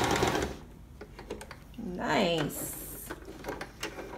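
A sewing machine stitching slowly around the heel of a sock, a short rattling whir of mechanical stitching in the middle with softer clicks around it, and a brief spoken word near the start.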